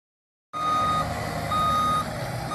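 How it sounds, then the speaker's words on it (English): An excavator and a skid steer work at removing an earthen dam with a clay core during wetland restoration. After half a second of silence, steady loud engine rumble starts, with a repeating reversing beep over it. "The excavator and the skid steer are being used to remove the dam for the swimming pool."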